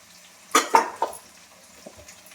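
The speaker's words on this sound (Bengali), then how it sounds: "আদা দিয়ে আমি একটু ভালো করে আদাটা নেড়ে নেব" A utensil stirs ginger paste into fried onions in a pan: three quick clinks and scrapes close up, then faint scattered stirring over quiet background.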